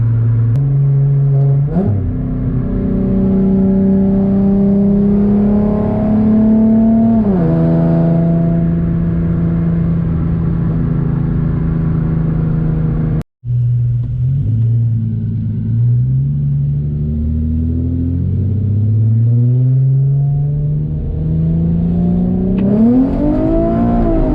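An Infiniti G37x with a tuned VQ V6 engine, driven hard from inside the cabin, revs loudly through repeated accelerations and gear changes, its engine note climbing and dropping steadily with a brief cut partway through.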